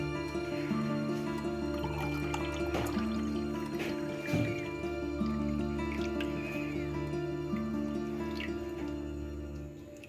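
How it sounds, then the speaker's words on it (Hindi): Falsa (phalsa) juice is poured into glasses with a steady liquid trickle and drips, close by, over a constant background hum that fades slightly toward the end. "अब मैं इसमें ये जूस ऐड करूँगी"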